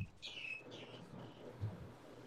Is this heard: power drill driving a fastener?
no